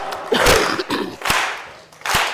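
Hands clap in time during a song at a Sing Out gathering, with sharp, fairly loud claps spaced roughly every half second to second, some ringing slightly in the room.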